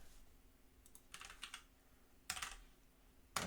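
Computer keyboard typed on in short bursts of keystrokes separated by pauses, with a couple of sharper single key hits, close and fairly quiet in a still room.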